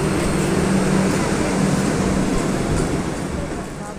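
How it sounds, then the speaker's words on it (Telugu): A Vande Bharat train rolls into Chennai Beach railway station with a loud continuous rumble and rushing noise, someone speaking briefly over the platform ambience. "ఇప్పుడు వందే భారత్ ట్రైన్ వస్తుంది."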